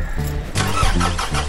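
A car engine cranks without catching, a steady churning starter grind that shifts and surges partway through, loud and close with no talk.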